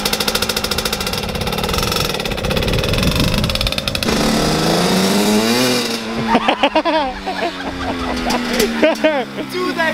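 A motorcycle engine roars and revs hard, then its pitch sweeps up and down through gear changes, with people talking over the noise.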